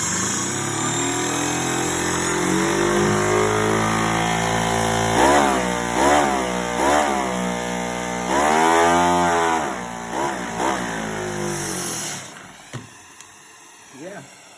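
An engine revving hard after a vacuum fitting, likely a small engine, produces loud, rising and falling roars in several bursts before cutting off abruptly near the end.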